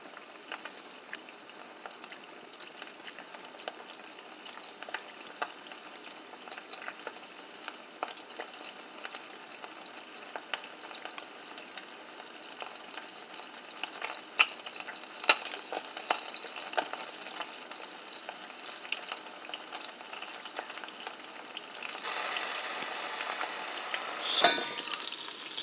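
Eggs frying in a pan for pita wraps produce a long, quiet but continuous crackling sizzle with scattered sharper pops, growing slightly louder and busier toward the end.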